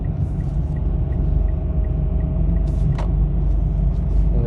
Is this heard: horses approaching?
no